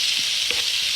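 Onions and garlic fry in oil, a brief steady hiss of sizzling with a faint stir, close and continuous.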